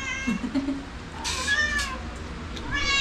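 A cat meows a few times close by in a Filipino home kitchen, drawn-out rising and falling cries with short gaps, against a quiet room background.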